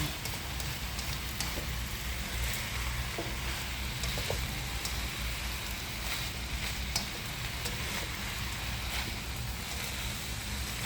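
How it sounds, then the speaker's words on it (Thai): Steady, dense sizzling of instant noodles stir-frying in a large hot wok, with faint scraping and tossing sounds throughout, no voices. "ผัดมาม่ากระทะใหญ่เลย"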